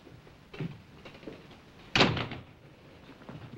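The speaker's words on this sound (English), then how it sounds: "Shut the door." A door being shut in a quiet domestic room, heard as one fairly loud, close thud with a short rumble, after a few faint soft knocks and shuffles.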